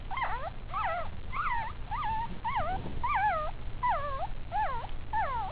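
A puppy whimpers during tail docking, giving a steady run of close, high, sliding whines about every half second with no talk.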